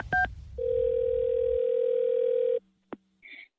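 On a radio show's prank call segment, a telephone line clicks, then gives a long steady tone, followed by a short beep and a faint blip, heard alone without talk.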